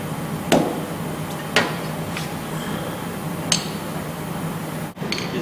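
A few sharp hammer strikes ring out on a metal body panel during traditional dent repair, spaced irregularly with quiet scraping between, close and fairly loud.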